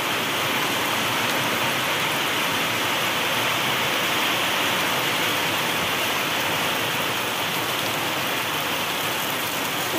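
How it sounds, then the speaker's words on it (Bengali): Steady downpour of heavy rain outdoors under a cloudy sky, a thick continuous hiss of water drumming on surfaces, loud and unbroken for the whole stretch with nobody speaking. "আর ঝমঝমিয়ে বৃষ্টি নেমে গেছে।"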